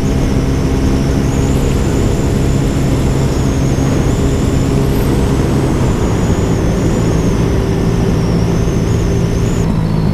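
A new motorcycle is ridden at speed, its steady engine drone buried under loud, constant roaring wind buffeting throughout.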